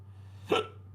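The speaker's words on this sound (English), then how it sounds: "Oh, hiccups." A single short hiccup pops out once, close and fairly loud, over a faint steady hum in an otherwise quiet room.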